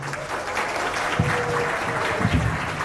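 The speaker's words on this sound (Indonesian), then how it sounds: "Boleh kita berikan tepuk tangan yang sekali lagi untuk ketua kita tercinta, ketua LSM Penjara 1, Bapak Teguh Z. Arifin" An audience applauding at a formal ceremony, dense sustained clapping from many hands at close range, with a couple of brief deeper voice-like bumps mixed in.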